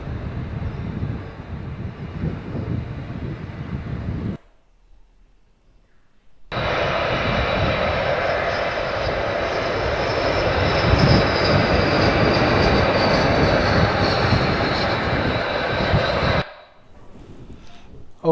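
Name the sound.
Airbus A380 aircraft engine noise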